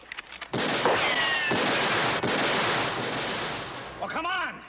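Rifle gunshots in a TV western shootout ring out as a loud sharp crack, followed by a few more shots over a dense, noisy background, with a voice heard briefly near the end.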